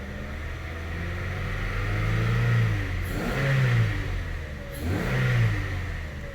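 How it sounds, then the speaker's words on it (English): A car engine idling in drive diagnostics is revved up three times, each rise in RPM swelling into a steady, close, mid-pitched roar before easing back, with no talk over it. "let me show you as I raise RPM."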